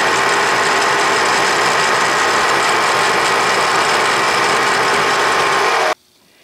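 Bridgeport milling machine at about 1750 RPM cutting a chamfer in free-machining leaded steel, a loud, continuous spindle drone with gritty cutting noise for about six seconds before it cuts off abruptly into near silence.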